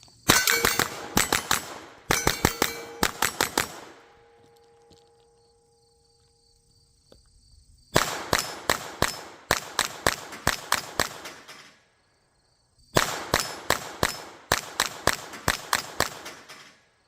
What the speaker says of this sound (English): I'll walk up there and hit some of these steel targets.